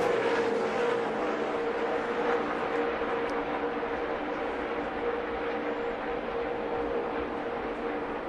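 Sustained drone of NASCAR race car engines at Pocono, a steady mid-distance roar with a droning engine tone that holds level for the whole stretch, no voices on top.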